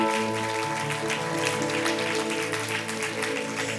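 A church congregation claps steadily together in one continuous wash of applause, sustained over a tonal musical backdrop with no voices standing out.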